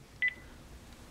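A telephone keypad button press gives a single short DTMF tone, a clean electronic beep that is clear against a quiet room hum.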